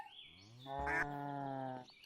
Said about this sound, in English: lured over my first cow. Moo indeed.